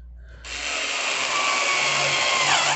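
A power tool drives screws, a steady, loud whirring buzz lasting a couple of seconds with a slight rise in pitch near the end, with no one talking.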